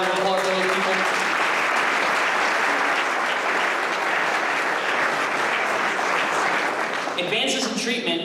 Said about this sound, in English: Give a round of applause for those people.